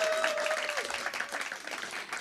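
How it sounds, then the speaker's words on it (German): Poetry slam audience clapping for a performer, fairly quiet and brief. A short tone is heard at the start, and the clapping stays a moderate patter for about two seconds. "Bitte nochmal Applaus für Judith, die heute Geburtstag hat."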